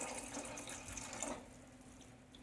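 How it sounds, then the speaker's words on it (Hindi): Water poured into an idli steamer pot, a steady splashing trickle for over a second that then stops, followed by quiet and a sharp metallic clink at the end. "200 ml जितना पानी डालूँगी"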